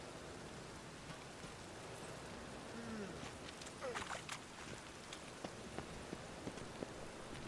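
Soft, even rain patter in The Witcher 3 video game, with scattered droplet ticks, a low constant hiss throughout and a few brief faint sounds mixed in.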